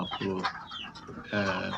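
Ducks on a farm pen holding around 250 birds call out in quacks and squawks, two bursts close by over a busy background.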